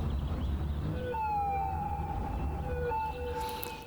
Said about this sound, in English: And we hear the ambulances